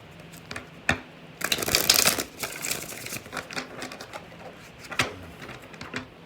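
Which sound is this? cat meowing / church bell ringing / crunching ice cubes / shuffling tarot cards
shuffling tarot cards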